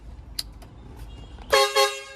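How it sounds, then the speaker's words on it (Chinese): A newly installed horn on a truck is tested with two short, loud blasts in quick succession, following a quiet stretch of faint background noise. "试一下喇叭"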